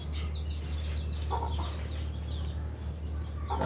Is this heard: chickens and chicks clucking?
yes